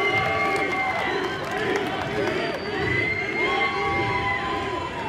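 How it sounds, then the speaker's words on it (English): Large press-conference audience at the Bethesda E3 2017 showcase cheering, whooping and clapping, a dense, loud, continuous roar of voices with shouts rising above it throughout. "I can't even imagine the size of the bar tab that it paid for that applause"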